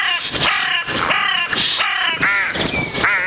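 A carrion crow cawing in a Spanish forest, a run of loud, harsh, rasping calls in quick succession, close and clear.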